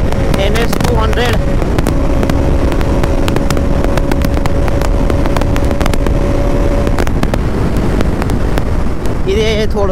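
A Bajaj Pulsar NS 200 motorcycle ridden at speed, its engine a steady loud drone smothered in heavy wind rush across the whole stretch, with no pauses and a faint tonal whine running through the middle.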